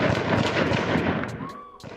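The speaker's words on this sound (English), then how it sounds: "news surveillance video captured the moments that dozens of bullets were sprayed" Dozens of gunshots in a street shooting, caught by a distant surveillance camera, pop in a dense, rapid volley that fades toward the end, with an echo-like far-off quality.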